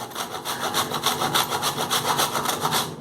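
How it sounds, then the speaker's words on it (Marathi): Fresh nutmeg is grated by hand for tilgul poli filling, a close, rapid rhythmic rasping of quick back-and-forth strokes that continues steadily without pause. "जायफळ मात्र ताजं ताजं थोडं किसून घालायचं"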